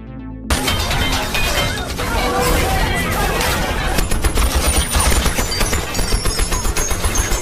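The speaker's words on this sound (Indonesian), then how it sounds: "hingga baku tembak sengit tidak dapat terelakkan lagi" Heavy gunfire rages through a shootout in a Jet Li action film, dense bursts of rapid shots mixed with shattering crashes and impacts, loud and continuous throughout.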